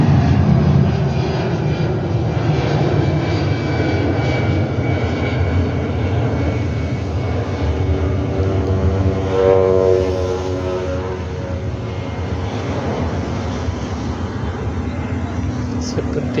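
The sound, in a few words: airplane flying overhead near an international airport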